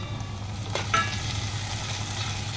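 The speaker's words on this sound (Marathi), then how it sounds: "आता आपल्याला ॲड करायचा टोमॅटो." Chopped tomatoes tipped into hot oil over fried onion, giving a steady, moderately loud frying sizzle with a brief stir or clatter near the one-second mark.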